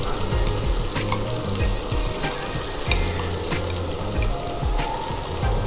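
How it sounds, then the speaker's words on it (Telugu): Green chilli, ginger and garlic paste sizzles and fries in a pan for a vegetable pulao, a steady crackling hiss with a few sharper spatters and scraping stirs, close up with no talking. "ఇప్పుడు మనం పేస్ట్ చేసుకున్న పచ్చిమిర్చి, అల్లం, వెల్లుల్లిపాయ అండి, పేస్ట్ చేసుకున్నాం కదా, ఇది వేసేయాలి."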